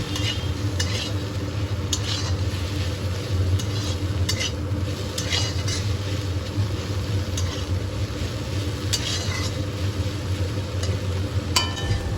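Dried shrimp frying with onion and garlic in a pan, a constant sizzle under repeated scraping and clinks of a spatula stirring against the metal, no talk.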